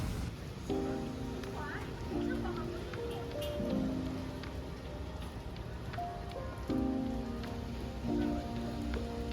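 Heavy rain pours steadily in Bangkok, a constant dense hiss of drops drumming on surfaces throughout, with faint background voices and tonal sounds breaking through now and then.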